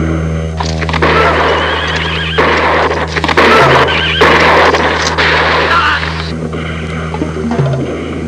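A horse in low-budget western movie footage whinnies loudly several times over a steady music bed, with a clatter of hooves and rough crashing noises in between.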